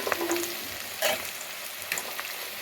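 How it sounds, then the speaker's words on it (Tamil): Onions sautéing in a frying pan for a Tamil masala, a steady close sizzle with brief scraping stirs breaking through every second or so. "இப்போ இதை வந்து நல்லா வதக்கி விட்றேன் நான் வெங்காயம் வந்து இந்த அளவுக்கு வதங்கி பாருங்கள்"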